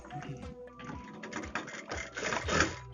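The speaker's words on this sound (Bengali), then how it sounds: "সিধা সাইডের উপরেই আমি এভাবে সেলাইটা দিচ্ছি" A sewing machine runs a fast, uneven mechanical stitching patter while sewing blouse fabric, quiet and close, with no voices.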